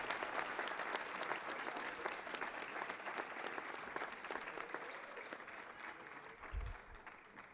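Sustained applause from a crowd at a high school athletic awards ceremony, a dense wash of clapping that holds steady throughout and fades slightly near the end.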